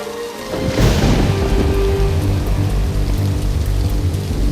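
Heavy rain pours steadily in a cartoon storm, with a loud thunder crack rolling in near the start and a dense, continuous downpour filling the rest of the scene.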